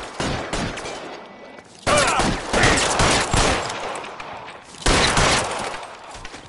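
Rapid bursts of gunfire in the video game L.A. Noire, loud and close, with dense volleys overlapping into a sustained fusillade and fresh surges at intervals.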